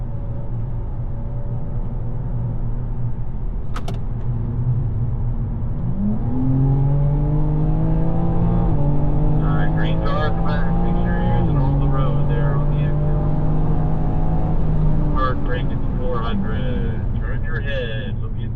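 BMW M4 GT4 race car engine droning steadily on a track, climbing and shifting through rising revs with a sustained loud whine, while an instructor talks over it throughout.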